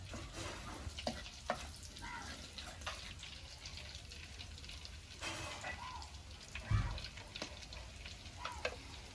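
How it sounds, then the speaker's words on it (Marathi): Curry leaves and ground masala sizzle in hot oil for a tempering in a summer mango dish, a steady close frying hiss with occasional stirring clinks and one soft thump. "तर आता इथे आपलं तेल तापलंय, कढीपत्ता टाकूया फोडणीला। आणि वाटलेला मसाला आपण याच्यामध्ये ऍड करूया।"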